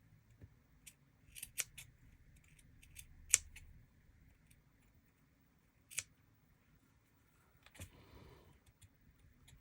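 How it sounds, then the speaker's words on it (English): Scissors snip in a few sharp, close clicks, scattered irregularly over a quiet background, with a soft rustle near the end. "Many different scissors."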